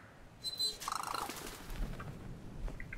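A bird freed from a cage in Brothers: A Tale of Two Sons gives a quick burst of chirps and wing flaps, then a few faint chirps over soft game ambience.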